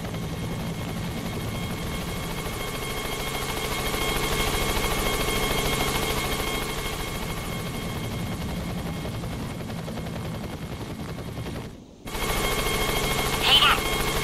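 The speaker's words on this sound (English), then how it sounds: "Two agency choppers coming in on an intercept." Helicopters approaching in the video game GTA San Andreas, a loud steady rotor drone that swells and holds, briefly cuts out, then returns with a sharp burst near the end.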